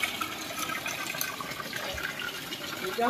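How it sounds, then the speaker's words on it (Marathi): Flood water being pumped out of a house with an electric motor, a continuous gushing rush of water at close range, steady throughout and swelling slightly at the end. "घरामध्ये साचलेलं पाणी बाहेर काढण्यासाठी चक्क विद्युत मोटरचाही उपयोग होत असल्याचं आपल्याला या"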